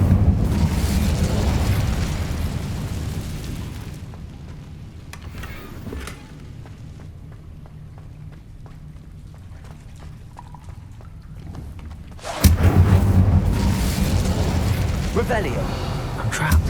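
An Incendio fire spell in Hogwarts Legacy bursting into a roaring, crackling blast that fades into a quieter stretch, then a second loud fiery whoosh flares up near the end.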